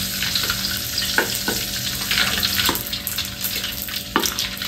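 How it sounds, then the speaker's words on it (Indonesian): Small dried anchovies (ikan bilis) fry in hot oil until crispy, a loud, steady sizzle close by with occasional stirring scrapes and bubbling bursts throughout, no voices. "Saya goreng ikan bilis terlebih dahulu sebab saya nak ikan bilis ni"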